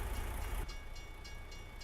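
A train rumbling past in American Truck Simulator, heard as a low, steady roar with faint rhythmic clatter, quiet and fairly distant.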